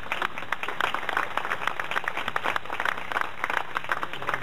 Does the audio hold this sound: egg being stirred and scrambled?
no